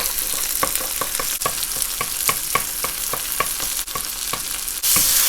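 An egg is scrambled in a hot pan beside Chinese sausage fried rice, a steady sizzle broken by quick, regular scraping taps of a spatula, up close and with no voices.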